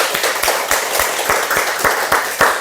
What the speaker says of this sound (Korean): 큰 박수로 주님을 맞이하고 환영합시다